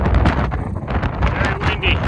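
Strong wind blowing outdoors on a trail in Wyoming, a loud continuous roar buffeting the microphone throughout with gusty surges, with no talking.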